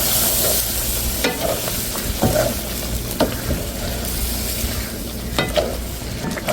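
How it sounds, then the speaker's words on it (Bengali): Shrimp sauté in a pan with a constant sizzling hiss, broken every second or so by the scrape and clatter of a spatula stirring, close up with no voices. "চিংড়ি মাছটা কষানো হয়ে গেছে"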